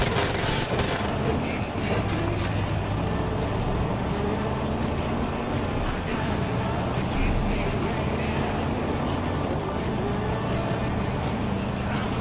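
Gunfire in Far Cry 5 rattles through a dense, steady mix of engine rumble and combat noise during a vehicle chase, with a player talking over it throughout.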